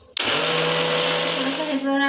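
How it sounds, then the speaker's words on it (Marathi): Mixer grinder blending mango pieces into mango lassi, starting abruptly with a loud, steady whir that runs close and continuous, its pitch shifting slightly near the end as the blades labor through the fruit. "आता परत एकदा मिक्सर लावून घेते"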